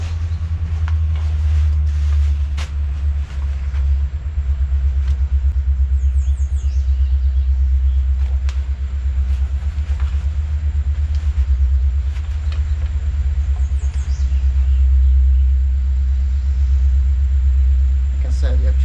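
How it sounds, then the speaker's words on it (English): A train passing nearby makes a loud, continuous low rumble that fills the background, with faint squeals and clanks overhead, steady throughout and without a break. "Please excuse the background noise, we got a train coming."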